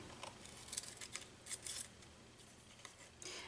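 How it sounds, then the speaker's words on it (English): Scissors trimming excess paper off the edge of a handmade card, a short series of crisp, close snips and paper rustles at an uneven pace, quiet and alone. "I'm just going to go ahead and trim off whatever is hanging"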